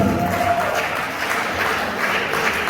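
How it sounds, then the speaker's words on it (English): Audience clapping at a university reception for Professor Idris O Amali held by the Department of English, a steady dense wash of applause filling the room for under three seconds, with a brief tone near the start. "Please keep clapping, keep clapping, keep clapping, keep clapping."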